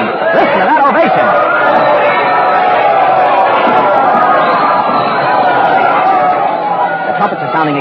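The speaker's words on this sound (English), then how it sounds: "They're cheering. Listen to that ovation." A large crowd cheers and roars in ovation for Queen Elizabeth as she appears beside Lord Walsingham, a loud, dense wall of voices sustained throughout without letting up.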